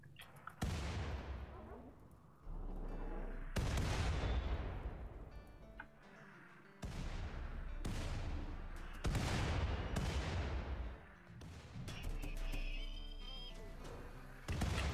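Several booming gunshots spaced a second or two apart, each with a long decaying tail, loud and punchy weapon fire in the video game RimWorld.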